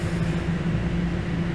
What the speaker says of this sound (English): As this train doesn't want to seem to get rolling.